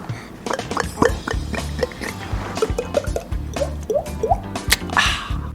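A voice beatboxes an imitation of water drops: a quick series of wet, plinking mouth pops with rising pitched blips, spaced irregularly and heard up close with no talking.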